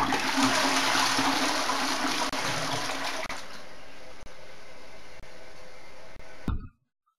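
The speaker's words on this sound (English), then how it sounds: "Like it's a very interesting technique of flushing a toilet." A toilet flushing in Australia, a loud continuous rush of water that holds steady for several seconds, then cuts off abruptly with a brief gurgle before silence.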